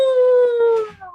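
A person imitates a howling wolf with one loud, close, sustained howl that slides slowly down in pitch and tails off in about a second.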